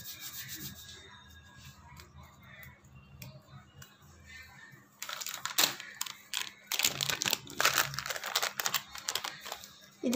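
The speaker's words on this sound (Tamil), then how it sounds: "அது க்ரஷ் பண்ணி சேர்த்துக்கலாம்." Dried kasuri methi (fenugreek leaves) crushed between the hands makes bursts of dry crackling and rustling, close and fairly faint, growing busier in the second half, with a little speech in the background.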